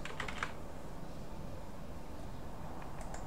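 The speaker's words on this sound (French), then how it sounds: "On va taper terminal." Keys on a computer keyboard are typed to enter a Linux terminal command: a quick burst of soft clicks at the start and a few more near the end, faint over steady background noise.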